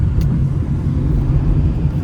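Inside a moving car carrying a group of passengers, a steady, loud, low road-and-engine rumble runs without a break, and nobody talks.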